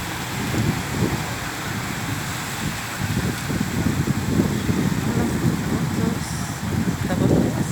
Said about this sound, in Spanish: Sí, después de tanto calor filmo una lluvia.